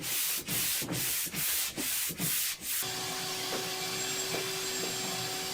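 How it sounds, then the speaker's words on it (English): A 1920s antique wooden dresser being power-sanded in preparation for stain: loud rhythmic back-and-forth sanding strokes, then a steady whirring sander drone, close up and with no speech. "I sanded the entire piece up to 180 in preparation for stain"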